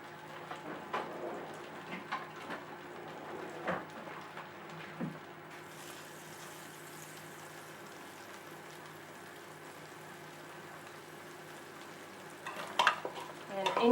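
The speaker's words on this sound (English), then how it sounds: "Alright, so butter is melting." Butter melts and sizzles in a pan, cooked ahead of onions and mushrooms for a green bean casserole, giving a soft steady hiss with light stirring and scraping, then brief utensil clatter near the end.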